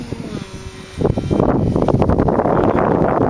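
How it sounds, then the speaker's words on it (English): A gust of wind buffets the microphone, rising suddenly into a loud, steady rush that drowns out a quieter background. "A little gust of the wind there."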